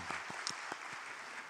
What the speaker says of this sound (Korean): 저희 박수 한번 할까요?